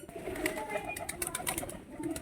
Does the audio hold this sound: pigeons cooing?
yes